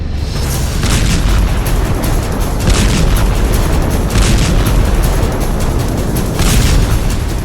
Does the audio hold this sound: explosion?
yes